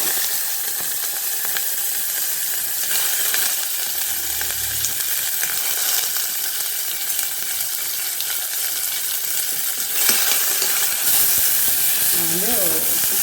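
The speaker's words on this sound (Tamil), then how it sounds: "ஆனியன் போட்டுக்கலாம்." Sliced onions with green chillies sizzle steadily in hot oil alongside whole biryani spices such as bay leaf and cloves, while a metal spoon scrapes and stirs the pan in intermittent clatters, close and continuous, with no talk.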